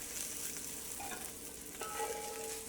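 Breakfast sausages fry with a steady, close sizzle in a pan, with light scraping and shuffling as they are tossed around.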